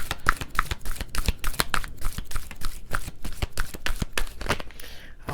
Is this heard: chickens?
no